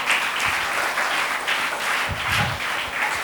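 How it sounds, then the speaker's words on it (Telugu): Audience applause at a church children's devotion class, a steady, dense wash of many hands clapping together for several seconds with no talk over it. "క్లాప్స్ కొట్టండి."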